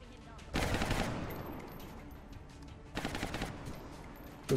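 Two bursts of automatic gunfire from the video game XCOM: The Long War, each a dense rattling volley lasting about half a second to a second, separated by quieter game ambience.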